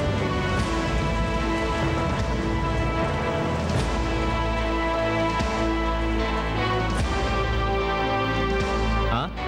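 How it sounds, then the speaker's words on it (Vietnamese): A sudden downpour of heavy rain pours steadily and loudly, a dense continuous hiss of drops striking surfaces throughout. "Trận mưa này thì tới đột ngột,"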